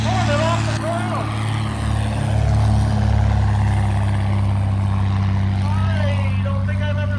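A small airplane piloted by a 99-year-old roars at full throttle on takeoff with its tail lifted, a loud steady propeller drone holding close throughout, with voices faintly underneath.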